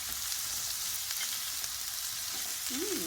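Oil, leeks and carrots frying in a pan for a bamboo noodle soup, a constant close hiss and sizzle, with a faint high tone sliding in near the end.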